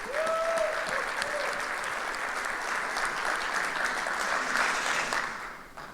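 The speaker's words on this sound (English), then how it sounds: "a quick round of applause, please, for everybody who put on that reception last night" A conference audience applauds steadily for several seconds, dense clapping that fades out at the end, with a brief whistle-like tone near the start.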